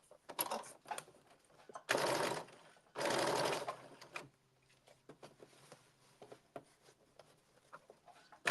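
A sewing machine stitches a blazer's back lining to the front lining along the side seam in two close, loud bursts, separated and followed by soft handling clicks and rustles.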